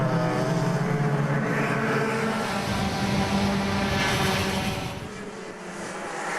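Club100 racing karts in a lightweight sprint race at Clay Pigeon, a loud continuous engine drone from several karts running together on the circuit that eases slightly toward the end.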